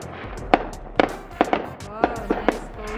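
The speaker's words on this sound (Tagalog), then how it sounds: "nanimaho ng pulbura fireworks" Neighborhood Fourth of July fireworks burst in a series of sharp, fairly close cracks spaced about half a second apart, with a voice talking between the bangs.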